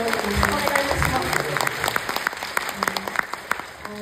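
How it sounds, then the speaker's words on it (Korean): An audience at a film festival master class claps steadily, a dense patter of applause that thins toward the end, with a voice briefly heard under it. "박수 한번 부탁드리겠습니다"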